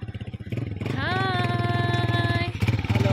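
A motorcycle rides past on a road during an afternoon walk in Pakistan, its engine revving up and holding a steady, rising tone for a couple of seconds, loud and close, with a voice faintly present underneath.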